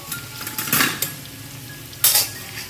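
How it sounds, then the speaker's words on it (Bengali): Squash and potato sizzle quietly in a little oil in a pan while a utensil scrapes and clatters against it in two short bursts. "আমার দেখো স্কোয়াশ আর আলুটা কিন্তু ভাজা হয়ে গেছে"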